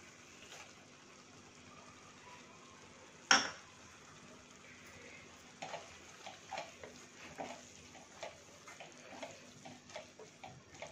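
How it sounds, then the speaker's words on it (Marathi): Frozen green peas tipped into a pan and stirred while making matar paneer bhurji: one sharp clatter, then a run of soft, irregular scraping and tapping, all fairly quiet with no voices. "आता यामध्ये मटर घालूया"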